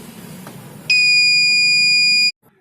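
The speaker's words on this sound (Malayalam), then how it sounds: "അപ്പോൾ നമ്മുടെ ബസർ പ്രവർത്തിക്കുകയും ചെയ്യും." A homemade electronic door alarm buzzer sounds one loud, steady, high-pitched electronic tone for about a second and a half, then cuts off sharply after a quieter stretch of low background hum.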